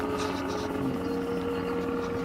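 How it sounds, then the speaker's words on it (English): A helicopter searching for marijuana patches drones steadily overhead, a continuous engine and rotor hum at moderate distance with no voices. "marijuana chopper. That time of year, they fly around, look for people's patches."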